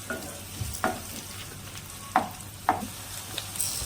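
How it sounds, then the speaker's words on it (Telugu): Onion and green chillies fry quietly in a pan for bottle gourd curry, with a soft sizzle under a few sharp scrapes from stirring. "ఇప్పుడు ఈ ఆనియన్ పచ్చిమిర్చి బాగా ఫ్రై అయిన తర్వాత ఒక రెండు నిమిషాలు బాగా ఫ్రై చేసుకోండి"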